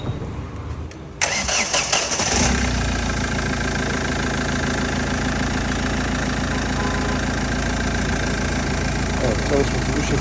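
A Kia Cerato 1.5 CRDi diesel engine with heavy damage turns over and settles into a steady, rumbling idle that runs continuously, close by, with faint background noise.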